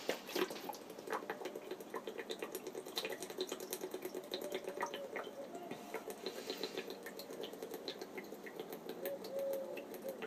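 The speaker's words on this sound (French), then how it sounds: "je prends une bouteille d'eau et je la bois" Water sloshing and gurgling in a bottle as someone drinks from it, a continuous run of liquid glugs and drips that is close and fairly busy, with no speech.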